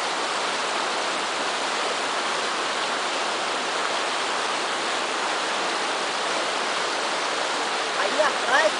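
River current flowing steadily near São José da Boa Vista, a continuous broadband rush of moving water holding even throughout, with a few faint splashes near the end.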